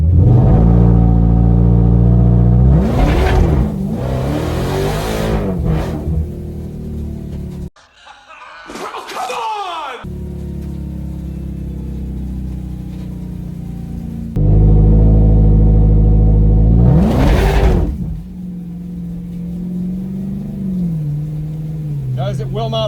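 A Dodge Demon 170 and a Tesla Plaid drag racing at a quarter-mile strip: loud, deep engine roar with surging revs and launches, broken by a gap and brief noise, with people talking and laughing nearby.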